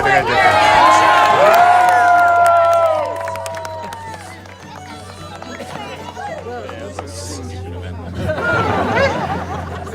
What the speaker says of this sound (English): Cheer on your team, boys and girls.